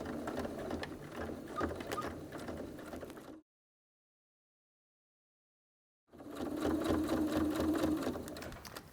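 Sewing machine stitching along the curved side of a fabric wash bag, running in a steady whirring burst for about three seconds, stopping in silence, then starting again with a slightly louder, even hum.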